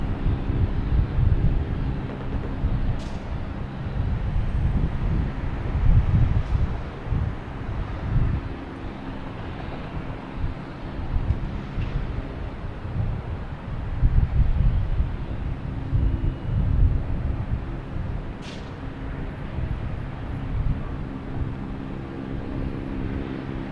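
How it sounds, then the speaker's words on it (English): JetBlue Airbus A220 airliner landing at Boston Logan Airport, a steady low engine rumble and roar that swells and fades slightly over about twenty seconds, mixed with wind buffeting on the microphone. "we have a JetBlue coming in, an A220, flight 312"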